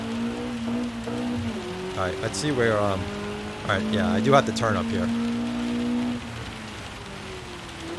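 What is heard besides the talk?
rain sound effects in a video game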